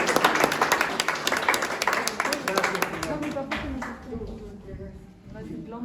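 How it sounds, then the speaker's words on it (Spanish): Church congregation clapping together, loud and dense at first, then thinning into scattered claps as a voice speaks over the fading applause. "Den un aplauso, Señor."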